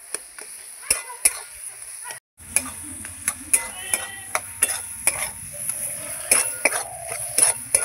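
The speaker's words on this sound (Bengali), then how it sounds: "এইভাবে আমি নাড়াচাড়া করে আরেকটু হবে, তারপরে আমি নামিয়ে নেব" Spatula stirring hilsa fish head cooked with taro greens in a wok, as the water dries off. The stirring gives repeated close scrapes and clinks over a low sizzle, with one short break partway through.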